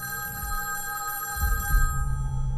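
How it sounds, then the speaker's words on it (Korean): A payphone ringing in the film Fight Club, a loud electronic bell tone held steadily for about two seconds before it cuts out, with low rumbling background underneath. "마지막으로 공중전화를 통해 타일러에게 전화가 다시 걸려올 때"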